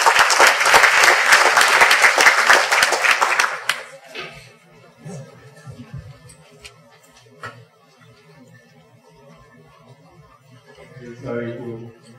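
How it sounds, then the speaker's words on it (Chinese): Audience applause at a Taichung information session on youth working holidays abroad, loud steady clapping from a large crowd for about four seconds, then fading into quiet hall murmur with faint scattered sounds. "请大家再用最热烈的掌声欢迎"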